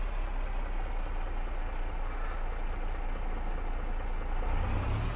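A tractor engine rumbles continuously in Farming Simulator 22, a steady low drone with a heavier, deeper note building near the end, heard alone without talk.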